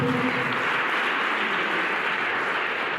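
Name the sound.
audience clapping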